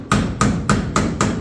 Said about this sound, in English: A little more hammering.